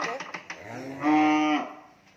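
A cow at a cattle farm in Mỏ Cày Bắc district, Vietnam, lets out a single long, loud moo, preceded by a few soft knocks and shuffles and fading into quiet barn noise.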